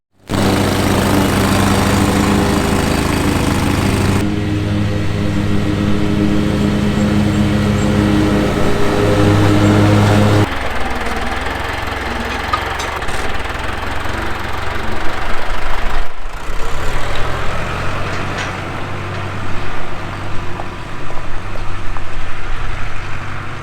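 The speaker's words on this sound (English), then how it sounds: "I'm going to go out and mow a strip in the yard for something that I'm working on." A lawn mower cuts a strip in a farm yard, its engine droning loud and continuous from start to finish, shifting in tone partway through as the load changes.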